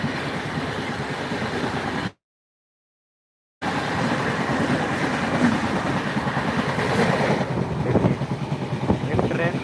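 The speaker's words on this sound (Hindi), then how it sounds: "देखिए एक ट्रेन आया" A passenger train arrives on an Indian rail line with a loud, continuous rumbling clatter of wheels and carriages, briefly cut out, while people talk over it.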